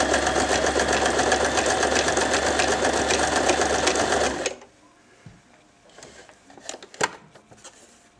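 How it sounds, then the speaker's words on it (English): A bottom-loading sewing machine runs a zigzag stitch at stitch length 2, holding a loud, even mechanical whir for several seconds before it stops and a few faint handling clicks follow. "We've got the machine set on zigzag with a stitch length of 2."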